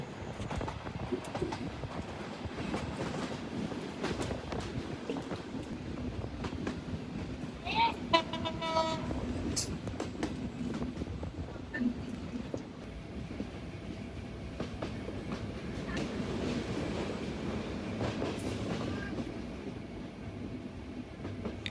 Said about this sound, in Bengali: এই মুহূর্তে আমাদের ট্রেন থ্রুপাস যাচ্ছে ঝিকরগাছা রেলওয়ে স্টেশন।